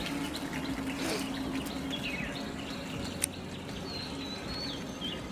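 Water pours and patters onto potted plants on a rooftop, a soft continuous trickle with birds chirping in the background and a single sharp tap partway through.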